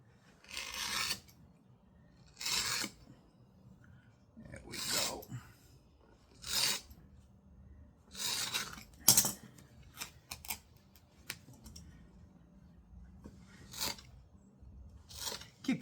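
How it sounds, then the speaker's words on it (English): Utility knife slicing through thick leather in repeated long strokes, each a broad rasping cut followed by pauses, with a few sharper scraping scrapes midway; close and moderately loud, no talking. "I'll probably use a utility knife"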